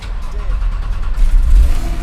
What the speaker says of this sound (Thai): สตาร์ทเครื่องนะครับเหยียบเบรกกดสตาร์ทได้เลย